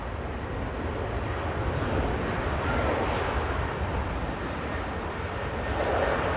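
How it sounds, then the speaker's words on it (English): Aer Lingus airliner in green and white livery departing Manchester Airport bound for New York, a steady broad jet roar holding close and loud throughout with a slight swell midway and toward the end. "Here goes Aer Lingus, UK, heading out to New York."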